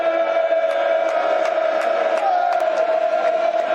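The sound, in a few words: football crowd at Millwall vs Leicester match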